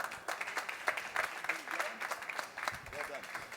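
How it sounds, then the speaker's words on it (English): A conference audience gives a round of applause after a panel on bringing spirits to market in the E.U. and U.S., steady clapping from the room with voices murmuring through it. "Can we just get one more round of applause for these guys?"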